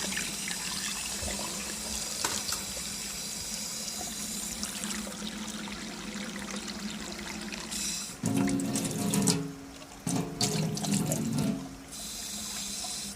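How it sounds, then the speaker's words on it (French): Boiled eggs are cooled under a kitchen tap after their cooking water is poured off. Tap water runs steadily throughout and grows louder in strong gushes toward the end, with no talking. "allez vider l'eau de cuisson et rafraîchir l'œuf immédiatement"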